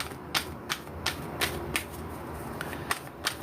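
Tarot cards being shuffled by hand, a series of sharp, evenly spaced riffling clicks and snaps close by, quiet and without talk.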